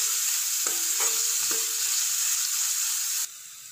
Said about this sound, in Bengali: পেঁয়াজটাকেও বিনস আর গাজরের সাথে হালকা ফ্রাই করে নেব, বেশি ফ্রাই করব না।